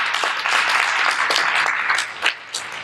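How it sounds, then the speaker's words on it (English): Conference audience applauding, a dense wash of many hands clapping at steady volume for a few seconds, with a couple of louder claps near the end as it trails off. "Let's give her a round of applause."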